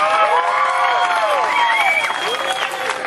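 An outdoor crowd at a Kachunga and the Alligator show claps together, the steady applause overlapped by animated voices with rising and falling pitch.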